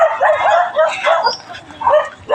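Several dogs bark and yip close by in rapid, overlapping bursts, loud and continuous through the moment.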